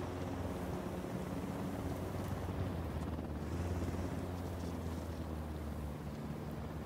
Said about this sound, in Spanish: Hay muchos helicópteros aquí